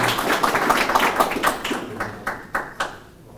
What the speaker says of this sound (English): let's give this guy a huge round of applause